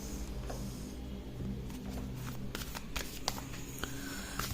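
Tarot cards being shuffled by hand for a relationship reading, a steady papery riffle with light snaps and taps running throughout at close range, no voice.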